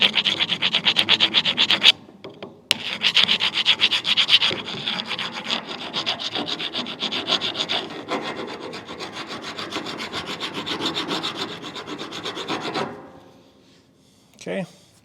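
Abrasive grinding on the rusty, corroded brake hardware area of a 2016 Chevrolet Suburban LT during a front brake job, a steady close rasping whine for about eleven seconds with a short pause early on, then stopping.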